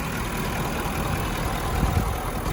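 A 2017 Ford F-250 Super Duty Platinum with a 6.7 liter Powerstroke diesel engine idles, a steady low rumbling drone heard close with no voices.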